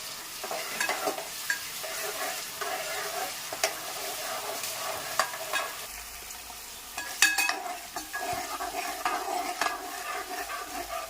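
Onions fry in hot oil with cinnamon and cloves for a mutton curry. The sizzle is close and steady, punctuated by the scrape and clink of a spoon stirring the pan.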